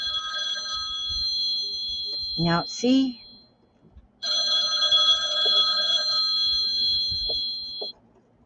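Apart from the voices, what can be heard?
telephone ringing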